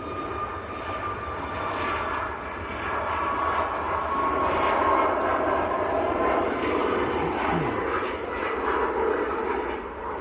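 A Ryanair airliner at Manchester gives a continuous, moderately loud engine drone that builds slightly toward the middle, with a low whine layered over the rushing noise.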